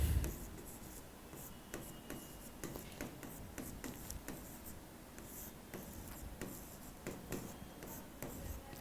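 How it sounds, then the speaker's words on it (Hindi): Faint scratchy strokes of writing on a board during an Indian economy lecture, irregular short scrapes and taps spread across a quiet stretch with no talking. "मैं पहले डेफिनेशन लिखता हूं।"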